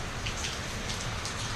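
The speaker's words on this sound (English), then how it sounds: "Thunder, lightning, wind, rain, everything I love to set a tent up in." Steady, dense rain patters hard on surfaces during a thunderstorm in Arkansas, loud and close with no talking.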